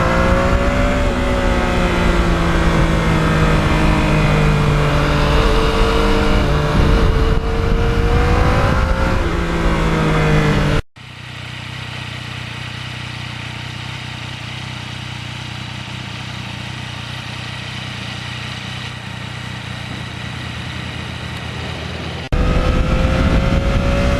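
A 2020 Yamaha MT-09 motorcycle with a quiet stock exhaust revs and accelerates while riding, its engine pitch rising and falling up close, then switching abruptly to a steady droning cruise with wind noise before the revving returns.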